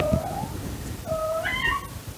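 A female cat in heat meows outdoors near a lemon cypress being pruned into a topiary, giving two drawn-out, wavering yowls close to the microphone, with no talk.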